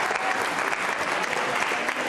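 Steady, fairly loud applause from an audience at a Ramzan quiz show, many hands clapping together in an even, unbroken wash.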